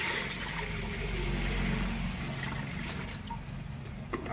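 Water pours into a pot of fish curry (machha dalma) as a steady, close splashing rush that eases off toward the end. No voices are heard.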